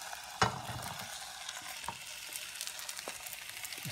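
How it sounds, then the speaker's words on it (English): Onions sizzle steadily in a hot frying pan, with a few sharp clinks and scrapes of a utensil stirring, close by. "So there we go, you can hear the sizzle on that."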